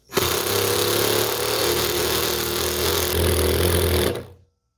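A cordless power drill whirs steadily at close range for about four seconds, its motor pitch shifting slightly as it drives a screw during a washing machine repair, then stops abruptly.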